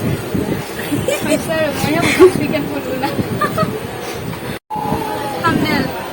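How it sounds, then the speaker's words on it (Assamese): A train rumbles and clatters as it begins moving toward Tongla, under a busy babble of voices nearby. "আমাৰ ট্ৰেইনখন ষ্টাৰ্ট হৈ গ'ল"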